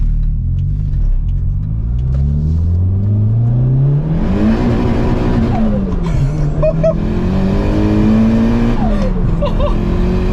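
Turbocharged Toyota Sera pulling hard in first gear on an open straight road, engine note climbing steadily then surging louder with a rising whine, heard close from inside the car.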